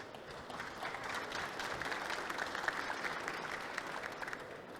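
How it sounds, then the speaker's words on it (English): An audience at a Ukraine energy-sector recovery and investment panel applauds the energy workers restoring light and heat, a steady, dense wash of many hands clapping throughout at moderate volume. "I would like to start by asking you to give an applause to all the energy workers"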